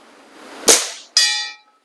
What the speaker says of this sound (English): let's see what kind of noise we can get out of that bell